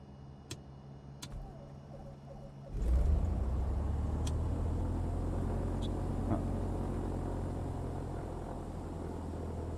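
A light aircraft engine in Microsoft Flight Simulator turns over and catches after a few sharp cockpit clicks, then settles into a steady, close, low rumbling idle that holds to the end.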